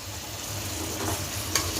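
Raw tender jackfruit pieces tossed into a pan of sautéed masala for jackfruit biryani, giving a steady low sizzle with light stirring and one brief clink near the end, no voices.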